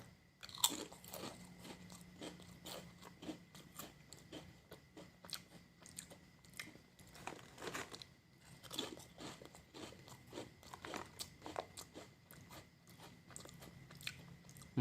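Crunchy Lay's popcorn-mix flavoured potato chips being bitten and chewed close up, a steady run of loud, crisp crunches and snaps repeating throughout, with no talking.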